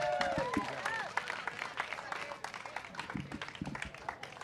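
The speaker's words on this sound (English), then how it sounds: "One more round of applause for our silver medalist." Applause for the silver medalist at a pickleball US Open ceremony, scattered clapping from a crowd building and sustaining under light background noise.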